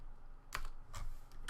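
A few quick keystrokes on a computer keyboard while coding a Unity game, soft clicks in small bursts over quiet room noise.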